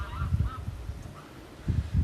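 A domestic goose in a village, weak from going without water, honks close by in a few short, low bursts, with a quieter pause in between before honking again.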